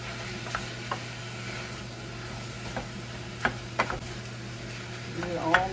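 Ground beef sautés in a pan with a low, steady sizzle and scattered clicks and scrapes from stirring, close by.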